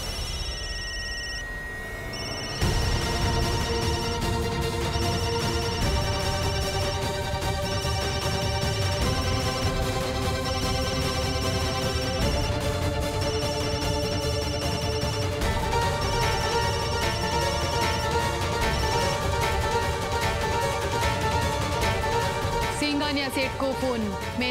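A melodic phone ringtone plays loudly and continuously, repeating its tune over and over with steady volume.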